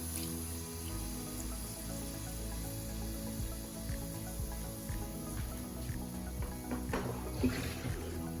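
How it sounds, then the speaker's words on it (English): Water poured from the bowl used to season crabs into a pot of curry crabs, a steady sloshing, splashing stream close by with no talking. "we'll go ahead and pour that water in from the bowl that we used when we're seasoning the crabs"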